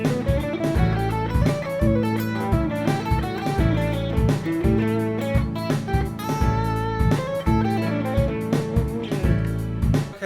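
A Mixolydian mode melody played over a sustained dominant seventh chord, instrumental with a steady bass pulse and a clear melodic line moving above it, loud and close with no voices.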